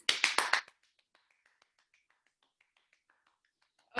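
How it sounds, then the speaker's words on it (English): Workshop participants clap their hands, a quick burst of four or five sharp claps at the start, followed by faint scattered taps and another clap at the end. "let's clap our hands"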